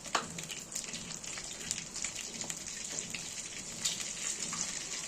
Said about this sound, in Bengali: যতক্ষণ পটলটা আমাদের ভাজা হচ্ছে